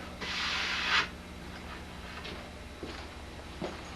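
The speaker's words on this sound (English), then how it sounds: "with the hand sander, give it a finish sand" Hand sander finish-sanding planed wood in a workshop, a short close rasping hiss for about a second, then quiet with a few faint knocks and rubs.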